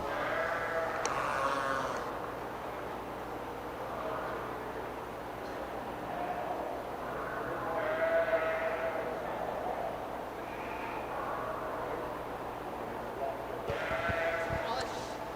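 Sheep bleat several times amid a crowd's murmur and an announcer's voice at a county fair 4-H/FFA breeding sheep show, with scattered bleats rising and falling over a busy background.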